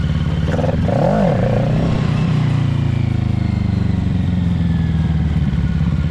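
A 2020 Kawasaki Ninja 650 motorcycle engine revs briefly up and down near the start, then settles into a loud, steady running drone close by.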